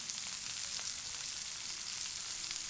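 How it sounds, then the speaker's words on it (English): Onions and other vegetables sizzle steadily in a hot pan over an outdoor bushcraft cooking fire, a soft continuous frying hiss with faint crackles and no talk. "I'm going to start throwing my vegetables in. Throw these onions."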